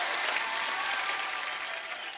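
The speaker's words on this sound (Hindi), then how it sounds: "जोरदार तालियां तो बनती हैं।" Loud, dense applause from a studio audience at a Hindi entertainment show, a continuous roar of many hands clapping close and steady throughout, easing slightly toward the end.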